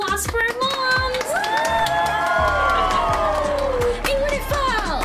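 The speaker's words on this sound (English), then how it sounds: "Please give a round of applause for our moms!" A small gathering cheers loudly after a toddlers' fashion show with dolls and dresses. High whoops and excited children's voices rise over faint clapping.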